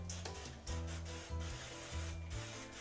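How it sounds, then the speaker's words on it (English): Butter-flavored cooking spray is spritzed over a baked topping in several quick, close hissing bursts with short pauses between them. "taking your spray, butter flavored spray, whatever, and just lightly spray the top"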